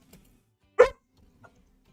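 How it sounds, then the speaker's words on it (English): A single sharp bark from a dog indoors, loud and close, bracketed by faint, brief rustles in an otherwise quiet room. "Oh my god, dog, quit."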